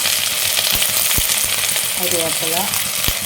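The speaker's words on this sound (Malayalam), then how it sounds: "നമുക്കതിലേക്ക് നമ്മൾ ചതച്ച് വെച്ച ഉള്ളി, വെളുത്തുള്ളി, ഇഞ്ചി, അതോടൊപ്പം തന്നെ സവോള," Crushed shallots, garlic and ginger hit hot oil with mustard seeds for a Kerala fish curry, a loud continuous close sizzle punctuated by a few sharp spoon knocks, with faint warbling tones in the background.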